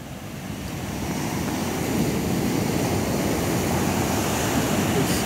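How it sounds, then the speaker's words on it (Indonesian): High ocean waves at a beach make a constant roaring wash of surf that builds slightly and stays dense and loud throughout, mixed with wind rumble. "Itu kita lihat ombak di tengahnya tuh."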